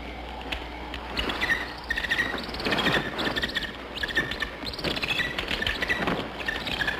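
Bird calling in a forest, a series of sharp, high chirps and tweets repeating irregularly over a steady low background, with no talking.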